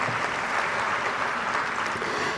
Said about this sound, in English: We should clap for the court.